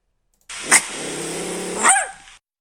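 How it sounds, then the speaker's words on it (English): A single close dog sound, a bark at the start and end with a sustained growly middle, loud against silence. "So the top dog, and that's coming from my dog Lily."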